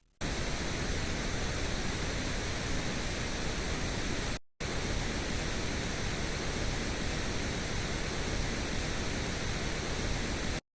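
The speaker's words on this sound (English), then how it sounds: "This is not pure pink noise. There is overlapping frequencies making weird tonal sounds." Pink noise hisses in a steady, loud wash with faint tonal bands layered through it, broken by one brief gap of silence near the middle before resuming and cutting off.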